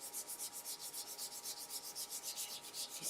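Hand sanding of a wooden bud vase spinning on a woodturning lathe, heard as a faint, steady rhythm of repeated rubbing strokes with no talk.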